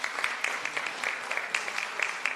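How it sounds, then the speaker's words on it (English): An audience at a Wheel-Trans strategy update meeting claps together, a steady patter of many hands with sharper individual claps popping through, moderately distant in the room. "I would like you to applaud them"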